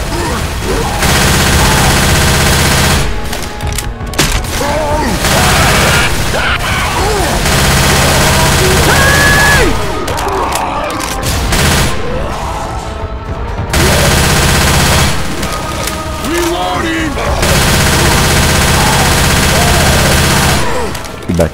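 Sustained bursts of automatic machine-gun fire in the video game Left 4 Dead 2, loud and dense, broken by short pauses between volleys, with faint voices mixed in.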